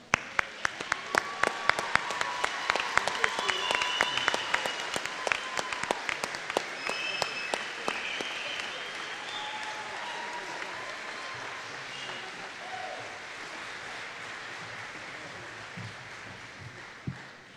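A crowd applauds steadily at a high school graduation ceremony, with many hands clapping at once and a few cheers rising above, gradually thinning toward the end.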